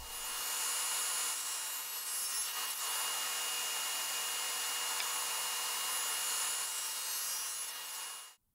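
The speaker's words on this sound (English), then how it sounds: "I set my table saw blade at 45 degrees and set the depth at 1 inch. Then I can use the miter gauge to cross-cut all four of the posts." A table saw with the blade tilted to 45 degrees cross-cuts wooden posts using a miter gauge, producing a loud, sustained, high-pitched whine that runs steadily and cuts off abruptly at the end.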